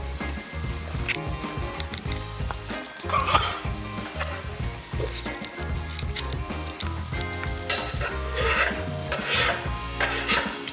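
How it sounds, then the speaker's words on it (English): Garlic and onion sizzle in a hot pan while being stirred, with steady frying crackle and repeated scraping and clinking of the utensil against the pan throughout, close and fairly loud, with no talk. "We don't want the garlic to be burning, so let's keep that stirring."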